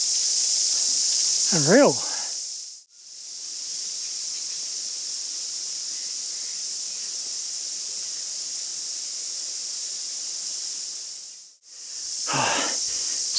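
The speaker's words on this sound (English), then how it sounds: "Listen to the cicadas." Cicadas in hot, humid New Zealand bush keep up a loud, continuous high-pitched shrill drone that pauses briefly twice, with someone speaking quietly in two short bursts.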